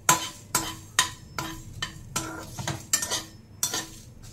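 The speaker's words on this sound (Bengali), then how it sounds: "এখন এই মশলাগুলোকে একটু ড্রাই রোস্ট করে নেব" Fenugreek and mustard seeds are dry roasted in a pan while a metal spoon stirs and scrapes. The scrapes come as sharp, clear clinks at a steady, unhurried rhythm, with a faint crackle underneath.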